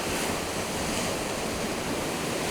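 Ocean surf crashing against rocks on the coast of Madeira, a continuous broad wash of churning water with wind noise, steady and fairly loud with no voices.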